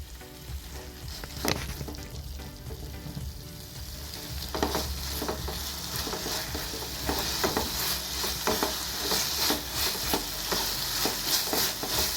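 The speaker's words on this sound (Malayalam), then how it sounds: "ഒന്ന് തുറന്ന് വെച്ചിട്ട് കുറച്ച് നേരം ഇളക്കി കൊടുത്താൽ നല്ല ഡ്രൈ ആയി കിട്ടും" Carrot halwa is stirred in an open pan as it dries down, a soft steady sizzle broken by repeated scraping strokes of the spoon against the pan, close and quiet, no voices.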